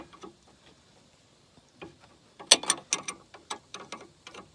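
An Allen wrench loosens the sway bar end link bolt on an R56 Mini Cooper S. Faint metallic ticks at first, then a quick run of sharp, close clicking and scraping bursts, with no talking.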